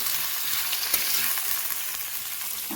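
Vegetables with turmeric fry steadily in a pan, a continuous close, bright sizzle with a few soft stirring knocks and no voices.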